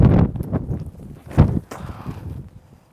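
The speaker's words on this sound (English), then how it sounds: "This wind is coming right at me." Gusty wind buffets the microphone in an open park during a disc golf round at Fox River Park, Silver Lake, Wisconsin, a low rumbling roar that surges and eases, with one strong gust in the middle.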